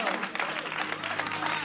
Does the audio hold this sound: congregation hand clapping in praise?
yes